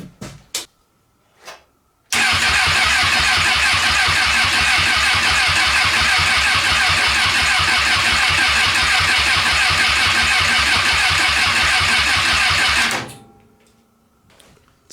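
Engine cranking steadily on the starter during a compression test on cylinder 3, with the other spark plugs left in and the engine previously overheated; a loud, even, rhythmic churn runs about eleven seconds alone, then stops.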